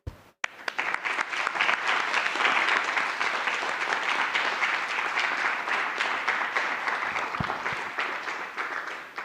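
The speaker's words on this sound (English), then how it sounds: "I would like to call for a round of applause to congratulate all the winners" An audience at a computer graphics rendering competition breaks into sustained applause for the winners, a dense and even wash of many hands clapping that holds steady before slowly tapering.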